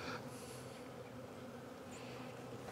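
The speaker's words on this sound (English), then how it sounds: "We have some Italian type of bees in here." Italian honey bees drone steadily around hive colonies at a yard in December, a soft continuous buzz with no voices.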